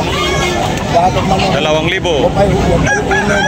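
Roosters crow and cluck at a busy chicken market in Tabunok. The birds sound close, and constant crowd chatter runs over them throughout.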